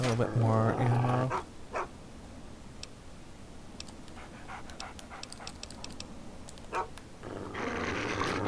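The dog companion in Fallout 3 growls and barks in short bursts amid sparse in-game ticks and clatter, loud at the start and end with quieter stretches between.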